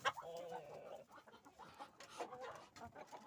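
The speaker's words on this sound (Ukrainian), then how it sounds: "Тут у мене два півники." Chickens and two roosters clucking close by in a steady, busy stream, with a few sharper calls standing out over soft background noise.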